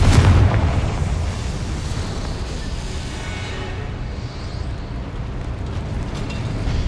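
A Confringo fire spell goes off in Hogwarts Legacy with a loud, booming blast at the start, then a rumbling, crackling tail that holds steady and dense for several seconds.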